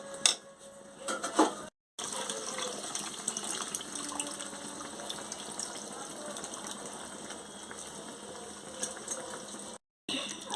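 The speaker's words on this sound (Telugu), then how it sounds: "కొన్ని పోసుకుంటాను వాటర్." Water poured into a pot of bottle gourd curry, a steady close gushing splash that runs almost unbroken between two short pauses, with faint clinks of the pot.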